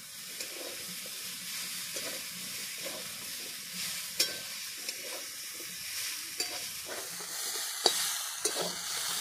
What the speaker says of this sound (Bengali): বেশ কিছুক্ষণ ডাঁটাগুলো ভেজে নিয়েছি